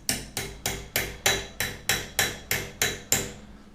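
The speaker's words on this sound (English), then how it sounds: "I would use like a hammer or something and just go in here" A hammer taps a BMX bike part eleven times in a steady, even rhythm, each strike a sharp close metallic knock with a short ring.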